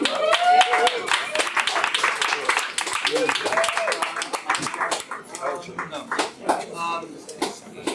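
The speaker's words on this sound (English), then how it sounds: "Please welcome good friend and fun guy, great poet, Mr. Bob Holman." Audience at a New York poetry event claps to welcome a poet, dense uneven clapping mixed with talking and cheering voices and some clattering, fairly close and busy throughout.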